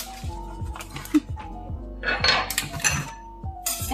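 A metal baking pan clanks and rattles while being lined for fudgy brownies, with repeated knocks, clinks and crinkling scrapes in a close, busy kitchen.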